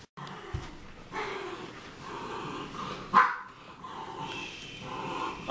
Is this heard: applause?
no